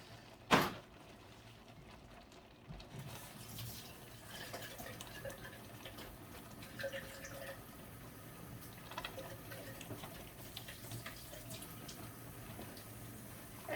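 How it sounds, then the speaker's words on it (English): Water sloshes inside an emptied dye bottle during hand-dyeing of yarn and is then poured out. It comes as a faint, steady trickle after one brief, louder knock near the start. "I'm just going to go put some water in this, swash it out, and I'm literally just going to pour it on the side here"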